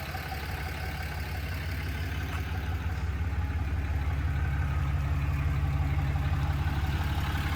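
The Cummins diesel in a stock 2017 Ram 2500 Mega Cab 4x4 idles steadily, a close, even low-pitched clatter and rumble that holds unchanged throughout.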